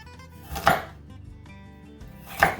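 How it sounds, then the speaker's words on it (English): A knife chops an apple around its core, two distinct firm cuts against a board with quiet handling noise between them. "just basically chop around the core"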